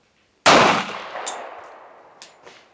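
A single pistol shot on a shooting range cracks loud and close, then rings out in a long reverberating tail with a few faint metallic clinks afterward, and no speech.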